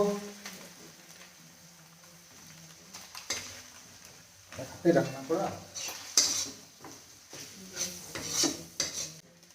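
Masala and tomato being stirred and sautéed in a pan for chicken kosha, with a spoon scraping and clinking against the pan over a soft sizzle in irregular bursts, fairly close and moderate in loudness.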